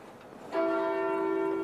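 A single church bell strikes once at a funeral in Cambridge, a clear ringing toll that follows a quiet moment and hangs in the air as it slowly fades.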